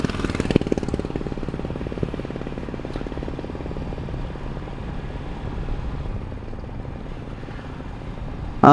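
A motorcycle cruises steadily along the Khulna bypass in Bangladesh, its engine giving a continuous, close, rhythmic throb mixed with wind rush, loud and unbroken throughout with no talking.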